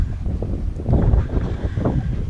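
Wind blowing outdoors, gusting buffets and rumbling noise against the microphone, close and fairly loud throughout with no voices.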